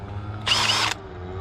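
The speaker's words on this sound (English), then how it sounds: "Milwaukee drill." A Milwaukee power drill gives one short, loud, high-pitched whir lasting about half a second, starting and stopping abruptly over a quiet background hum.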